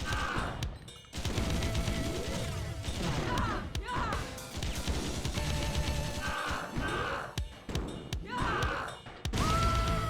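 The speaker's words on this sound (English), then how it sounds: "Machine gun feels so bad." Rapid bursts of machine-gun fire in the PC action game Iji, in choppy clusters broken by short gaps, mixed with crashes, thuds and sweeping electronic effects.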